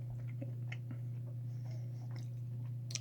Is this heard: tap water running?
no